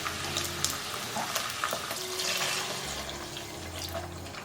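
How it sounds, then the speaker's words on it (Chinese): Mushroom soaking water pours into a hot pan of fried shiitake in chicken fat, a close splashing rush over sizzling that fades to a simmering bubble, no voices. "然后加入香菇水"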